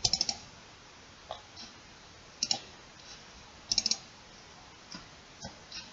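Sharp, quiet computer mouse clicks come in small quick bursts of two to four, separated by pauses, with a few single clicks between them in a hushed room.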